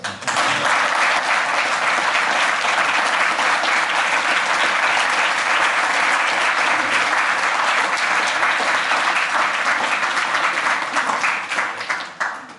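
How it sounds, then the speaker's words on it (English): A large audience at a lecture applauds continuously for several seconds, loud and dense, then the clapping begins to fade. "Join me again in a round of applause."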